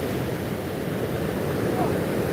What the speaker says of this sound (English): So this is the ocean at Palisadoes.